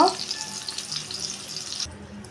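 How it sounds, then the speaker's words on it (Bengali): Eggs or pulao frying in hot oil in a pan until crisp and reddish, a steady close hiss of sizzling with a brief clatter at the start, cutting off shortly before the end. "একটু কড়া করে লাল লাল করে ভেজে নেব"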